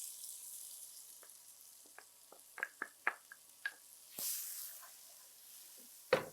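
Chopped onions hit hot oil with cumin and cardamom in a pan for egg curry, giving a soft sizzle with several brief crackling pops and a louder burst near the end, close and without talk.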